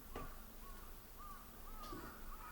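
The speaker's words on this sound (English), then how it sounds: "I hear the crows." Crows caw outside in a few spaced, drawn-out calls at moderate distance over a steady low background hum, with no voices.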